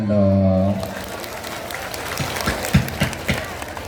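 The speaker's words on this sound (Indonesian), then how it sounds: "Tepuk tangan dong." Scattered clapping from an Islamic religious gathering audience follows a brief voice, loose and uneven rather than a full roar, fairly close.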